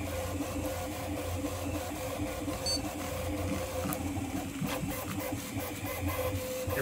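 A Prusa MK4 3D printer printing ABS at speed 100 makes a steady, continuous mechanical whir with motor hum and rapid stepper chatter, close and constant throughout with no talking.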